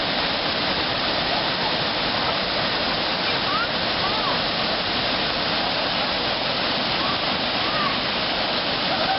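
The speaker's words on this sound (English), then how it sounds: "Nice waterfall." A waterfall at Havasupai after a July flood roars in a dense, steady wash of rushing water that fills the whole clip at close range, with faint voices under it.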